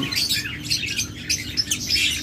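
Pet lovebirds and budgerigars kept for sale chirp and tweet in quick, overlapping bursts, close and lively, with no talking.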